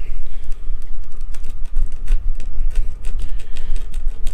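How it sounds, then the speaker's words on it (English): A plastic scraping tool works old silicone off a camper's side, giving rapid, close, irregular scratchy scrapes in quick succession. "You can see the old plastic or silicone scraping off there."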